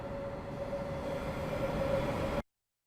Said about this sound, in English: operation of this DB-BR 642 diesel multiple unit